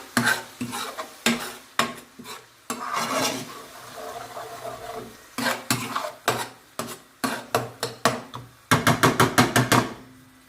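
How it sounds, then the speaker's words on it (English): A spoon stirs spices into a tomato puree mixture for a chicken madras curry, giving repeated close scraping strokes against the pan with a soft sizzle underneath, ending in a quick run of rhythmic scrapes. "give that a good mix with the flat of the spoon"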